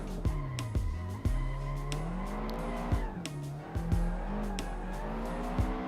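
Drifting car in the Assetto Corsa video game, an engine note that swings up and down as throttle is fed in and lifted, sharp clicks and bursts of tire squeal, loud and close with no talk.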